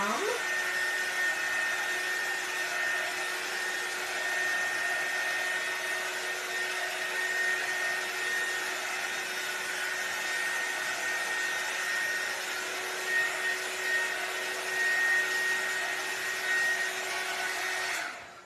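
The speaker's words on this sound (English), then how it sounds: "I'm going to hit it with my handy dandy heating gun" A handheld heat gun blows on paint on a Dollar Tree stretched canvas, a steady close whirring whine with a constant pitched hum that runs unbroken for the whole stretch, then cuts off at the end.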